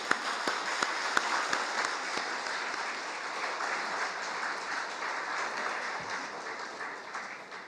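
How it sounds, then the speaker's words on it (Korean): Dense, sustained applause from a church congregation fills the sanctuary, many hands clapping together at a steady level before thinning slightly at the end. "우리 하나님께 영광의 박수 한번 돌려드리겠습니다"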